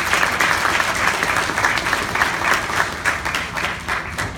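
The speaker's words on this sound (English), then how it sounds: "Can we give them another round of applause?" A graduation ceremony audience for a 2017 CNA class claps steadily in a sustained, dense round of applause that fills the room throughout.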